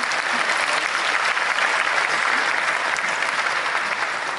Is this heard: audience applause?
yes